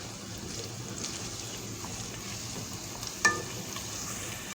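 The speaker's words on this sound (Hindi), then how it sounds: "इसमें प्याज डाल दूंगी। और प्याज को थोड़ा सा फ्राई करेंगे" Onions fry in oil with a low, steady sizzle and soft stirring. One brief, sharper clink of a utensil sounds near the end.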